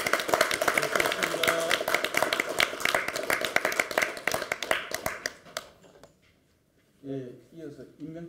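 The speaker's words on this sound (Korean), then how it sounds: "큰 박수 부탁드립니다." A crowd at a Korean party leadership meeting claps loudly for a departing leader, a dense burst of hands that thins into scattered claps and fades to silence before a voice begins speaking.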